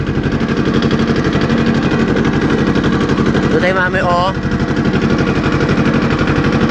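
A small Ursus tractor engine chugs loudly and rapidly right up close while pulling a trailer, its steady pulsing running throughout, with someone talking briefly over it.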